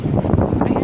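Steady low rumbling buffeting of strong wind against the microphone at the Guimaras windmills in the Philippines, continuous and loud throughout with no pauses.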